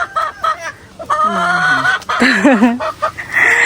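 Chickens cluck repeatedly up close, a loud run of short calls rising into a longer squawk, with no talking.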